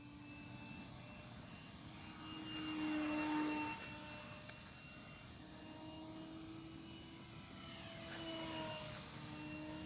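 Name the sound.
FMS Ranger RC model airplane flying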